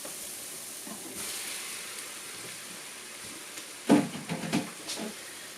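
Chicken gizzards dropped into a sizzling onion, tomato and spice mixture: a soft frying hiss under a few clattering knocks and bumps near the pan, closer and louder toward the end.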